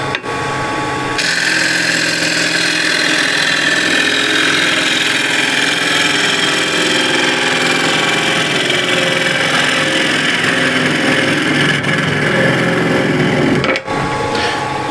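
Apple wood bowl spinning on a wood lathe as a KS bowl gouge hollows it, giving a steady loud whirring cut with a continuous hum that runs almost throughout and drops out briefly near the end.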